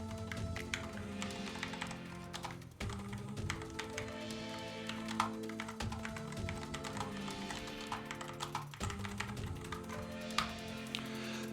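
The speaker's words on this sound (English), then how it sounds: "So what we do next is let's do a quick little type test." Fast typing on a Cooler Master SK620 low-profile compact gaming keyboard, a continuous rapid patter of light, fairly quiet keystrokes heard close up with occasional slightly louder taps.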